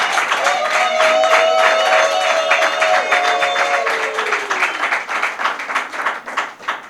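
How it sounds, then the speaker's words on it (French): Audience applause at a public speech, rapid clapping from many hands with a sustained voice calling out above it at first, then thinning into scattered, uneven claps. "le camarade Christopher Ngoïmou Tamba, que nous allons applaudir"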